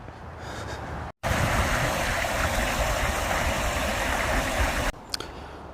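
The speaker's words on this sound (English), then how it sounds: "I've noticed a lot of water sort of coming into the river from these little sections along the side." Steady broadband rush of water running into the River Tone in Somerset from small channels along the bank, loud and close and continuous, with a brief cut near the start and quieter outdoor ambience at the end.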